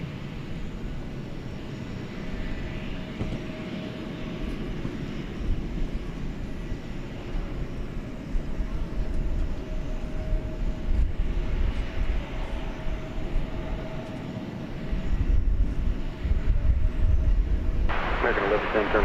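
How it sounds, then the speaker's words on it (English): An American Airlines Airbus A320 takes off at night at DFW airport: a continuous low jet roar swells and rumbles for the whole stretch, with radio voices audible beneath it. "American Flight 1110, Airbus A320"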